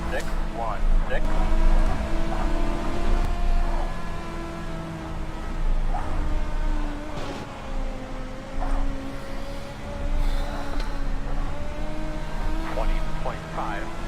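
Race car engine in a video game lapping Volusia Speedway Park, a steady loud drone with sustained harmonic whine and slight pitch shifts throughout, with a voice talking over it.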